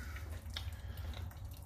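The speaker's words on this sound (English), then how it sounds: "Drip, drip, drip, drip, drip, drip." Fuel drips from a Champion generator that has sat unused, a few faint, irregular drops over a low steady hum.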